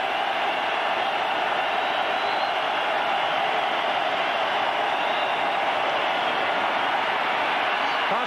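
A dense, steady roar from a crowd of about 49,563 fans at a 1994 Miami football stadium game, holding loud and unbroken throughout.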